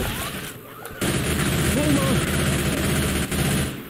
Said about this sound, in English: Grabbing the machine gun.